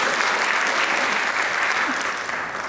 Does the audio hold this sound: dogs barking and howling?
no